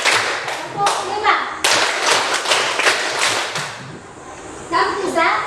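Rhythmic group clapping by children in an Indonesian school classroom, sets of five sharp claps in quick succession, loud and near, with young voices around them and a brief lull before the final burst.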